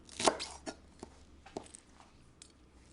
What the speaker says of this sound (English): now all I want to do is have a few snipped spring onions on top.